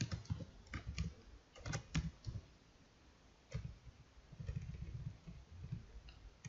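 Someone typing VBA code on a computer keyboard in Excel: irregular bursts of close, crisp key clicks, clustered in quick runs with short pauses between them, and no voice.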